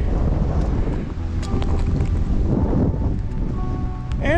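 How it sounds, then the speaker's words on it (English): Steady wind roaring and buffeting against the microphone on the snowy summit of Potash Mountain in the White Mountains, a continuous low rumble with gusts, outdoors and exposed. "It's a little windy."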